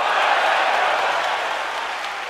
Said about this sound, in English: every time Diaconu lands a shot, the crowd here really reacts in a positive manner